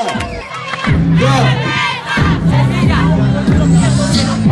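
A crowd at an underground dance battle in Antímano shouts and cheers loudly and continuously, with excited voices rising over a pounding music beat throughout.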